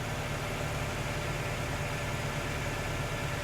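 A 1999 Toyota Tacoma engine idling during a charging-system check, a steady low rumble with an even hum and no change in pitch, close and alone throughout.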